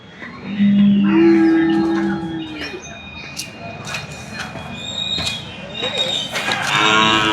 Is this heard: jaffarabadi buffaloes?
yes